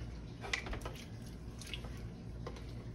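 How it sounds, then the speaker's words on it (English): Worcestershire sauce being poured onto a raw beef brisket in a pan, soft wet squishes and drips in a few short bursts, quiet and close, with no one talking. "I'm gonna put some Worcestershire sauce on here on both sides."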